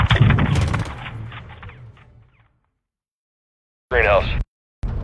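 Heavy gunfire and a loud explosive burst in a video game campaign mission, rumbling away into silence before short sharp bursts return, loud and close, with brief radio-style voice chatter.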